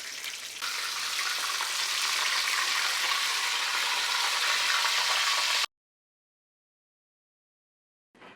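A whole red snapper fries in beef tallow in a pan, giving a loud, steady broadband sizzle for several seconds, then cutting off abruptly into silence before a brief return at the very end.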